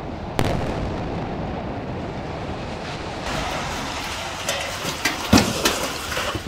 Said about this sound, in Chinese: 爆炸一声又一声，巨大的烟尘扬起，一栋栋大楼夷为平地